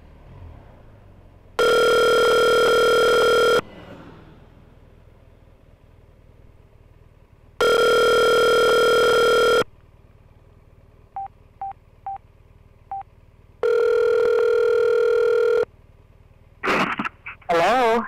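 A phone speed-dials a call: three long electronic ringing tones about two seconds each, with a quick run of short beeps between them, and a voice briefly speaks at the end.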